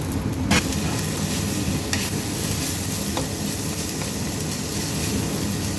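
Chopped big onions and a sprig of curry leaves frying in a pan for mutton liver fry, a steady, dense sizzle that runs the whole time with a few sharp crackles and pops, close and fairly loud, with no talking.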